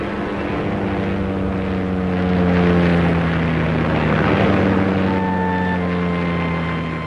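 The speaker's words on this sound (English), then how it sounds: "The extra weight means they had to accelerate to the very end of the airstrip before using their flaps to lift off." Heavily loaded P-38 fighter planes roar steadily on takeoff, a loud sustained propeller-engine drone that swells and holds, with a higher tonal whine joining near the end.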